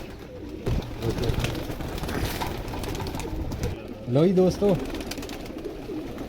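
Flying pigeons kept by a fancier coo in a low, rhythmic burst near the end, close by, after a stretch of background noise and handling sounds; someone speaks briefly at the start.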